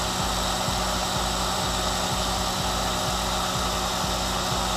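A Syma S107G RC helicopter's rotor spins at full throttle, giving a steady, loud, high whirring drone with an even rhythmic pulse from the blades, close and unbroken throughout.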